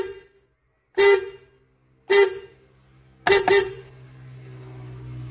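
Poor-sounding car horn on a 2014 Suzuki Carry, sounding in four short, loud honks, the last two close together, followed by a low engine hum.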